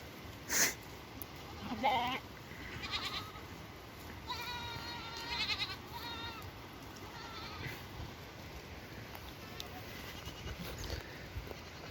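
Goats, goat kids and sheep bleating at a distance on green pasture in Anatolia, several wavering calls spread across a steady outdoor background with a faint rustle.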